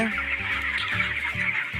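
Broiler chickens on a poultry farm cluck steadily and close by, a dense overlapping chorus of birds with repeated low pulses throughout.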